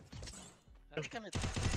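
Rapid gunfire in a competitive first-person shooter match, a burst of close, loud shots that drop away briefly and then resume as a dense volley, with excited players talking over it.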